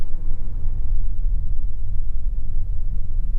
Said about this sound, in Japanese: 舗装がひび割れたような道を通ると意外にゴーゴーと音がします